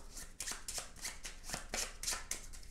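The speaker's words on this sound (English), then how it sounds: "So you're going to do that by taking these dark lady cards, shuffling them up," Black Sonata dark lady playing cards being shuffled by hand, a steady run of quick papery riffles and snaps close up, with no talking.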